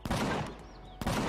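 Base-mounted cannon in the Empyrion Galactic Survival game firing rapid bursts, a dense barrage that pauses briefly and then resumes, loud and close.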